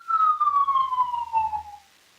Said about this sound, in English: an ambulance just about ran through my house